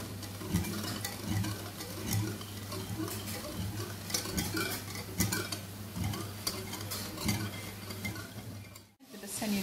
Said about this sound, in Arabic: نحرك مزيان.